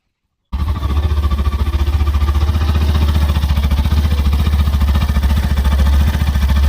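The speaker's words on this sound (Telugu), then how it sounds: "ఇంజన్ స్టార్ట్ చేసి ఇంజన్ యొక్క నాయిస్ ఎలా ఉంది," A Hero Glamour motorcycle engine idles steadily and close by after starting, a smooth, even low rumble with a regular beat that runs unbroken after a brief silence.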